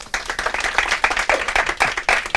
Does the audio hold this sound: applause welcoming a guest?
yes